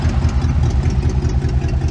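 Rebuilt 283 V8 in a 1962 Chevy Impala idling, a steady, loud low rumble with an even pulsing rhythm, heard up close with no talking.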